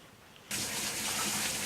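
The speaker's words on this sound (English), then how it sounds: "this cold running water" Cold tap water starts gushing abruptly into a kitchen sink for washing Japanese rice, a steady broadband rush after a brief quiet start, with no voices.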